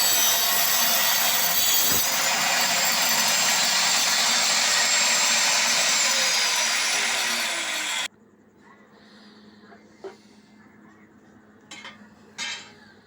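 A simple modified electric wood cutter saws through wood up to about 1.5 inches thick with a loud, steady, close motor whine that runs for about eight seconds and then cuts off, followed by a few faint knocks.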